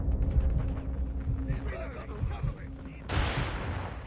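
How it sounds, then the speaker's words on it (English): A grenade blows up in a shooter video game with a sudden loud, broad blast about three seconds in. Voices and scattered gunfire come before it, and the roar rolls on to the end. "Oh, grenade!"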